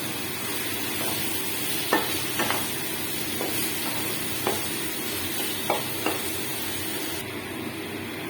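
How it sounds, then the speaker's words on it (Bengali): Marinated chicken goes into a pan of frying ginger, garlic and chili paste and sizzles with a steady hiss. A few sharp spoon scrapes and taps punctuate it, and no one speaks. "এবার আমি এর মধ্যে ম্যারিনেট করা চিকেনটা দিয়ে দেব।"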